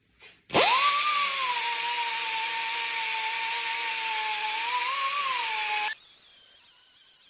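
An angle grinder or similar power tool whines steadily and loudly for about five seconds while cleaning up welds on a metal gate, then shuts off and winds down.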